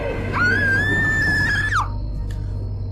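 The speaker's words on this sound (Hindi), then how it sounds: "वो बहुत जोर से चिल्लाई।" A woman's loud, sustained high-pitched scream in a horror story, held for over a second before breaking off sharply, followed by low background hum.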